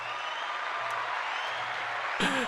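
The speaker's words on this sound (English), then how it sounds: "I would love to welcome you with a hand clap" Steady hand clapping fills the space evenly at moderate loudness, with a brief louder burst near the end, sounding like a sustained round of applause without any talk over it.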